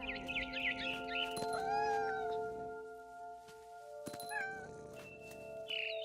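Cat sounds in a video game, with a drawn-out meow-like wail and scattered soft cries over a quiet ambient bed, interrupted by brief clicks and a faint chirp near the end.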